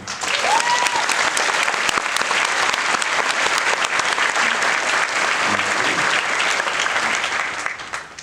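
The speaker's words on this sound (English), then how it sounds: "Let's have a round of applause for Michael." Sustained, loud audience applause fills a hall at a Fan Expo Toronto Q&A, a thick, even roar of many hands clapping that tapers slightly at the close.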